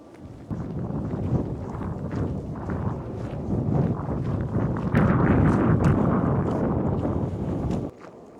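Strong wind blows along a coastal trail on the Yeongdeok Blue Road, giving a sustained, loud rumbling buffet against the microphone that swells midway, then drops off suddenly at the end.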